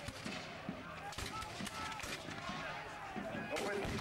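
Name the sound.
rifle gunfire at an American Civil War battle reenactment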